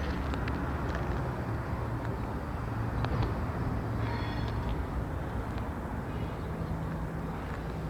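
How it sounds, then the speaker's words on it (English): Broadband rumble of a PL1 freight locomotive easing a train through Plainville Yard in central Connecticut, steady and fairly distant, with faint metallic squeals and clanks scattered through the low drone. "And once secure in the yard, the PL1 pulls back ahead of the switch"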